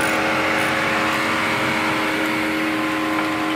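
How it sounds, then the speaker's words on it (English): Volvo 240 with a swapped turbo engine idling steadily, a constant hum with a strong low tonal drone and faint higher whine, close by and unbroken, with no talk. "Supposed to do this while the engine is running."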